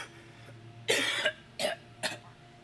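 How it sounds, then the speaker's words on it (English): Three short harsh coughs from one person, a strong burst followed by two briefer ones about half a second apart, fairly close and alone against a quiet room background. "coughing,"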